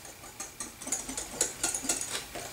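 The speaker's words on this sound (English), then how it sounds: "is just keep stirring it up, whisk it up really, really, really, really good" Protein pudding is whisked in a bowl with three cups of whole milk. The strokes come as quick, rhythmic scraping swishes, soft and close, with no one speaking.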